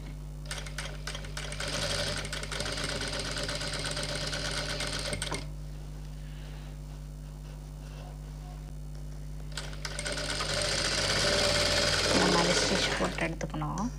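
Sewing machine stitching the back part of a boat neck blouse: bursts of rapid mechanical chatter at the start and again near the end, with a quieter gap between and a steady low hum underneath, someone speaking at times.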